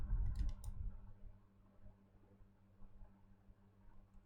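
A single computer mouse click sounds near the start while editing in CapCut, followed by faint room noise.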